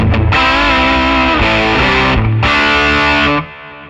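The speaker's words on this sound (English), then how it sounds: "So I've got a bit of a fuzz face dialed up here. It sounds like this." Electric guitar through a Fuzz Face fuzz pedal: thick, saturated sustained chords in a few long strummed bursts with brief gaps, loud and close, fading out at the end.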